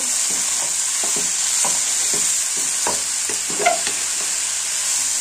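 Ash gourd frying in a pan with salt and turmeric, a steady sizzle under repeated scraping stirs of a spatula, close and clear, with no talking.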